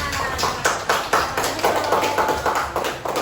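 Second-grade primary school pupils clap their hands in a quick, fairly even rhythm, a run of close, sharp claps filling the classroom with little talk.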